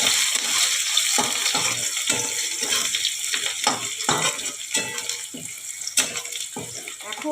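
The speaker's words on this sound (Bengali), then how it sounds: "এবারে আমি পেঁয়াজ কুচিগুলোকে দিয়ে দেবো।" Chopped onions hit a hot pan and fry with a bright crackling sizzle under intermittent stirring and scraping, heard close up.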